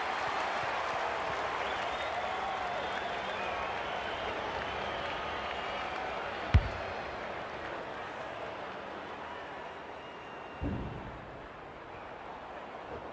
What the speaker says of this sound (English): The crowd noise tells you all you need to know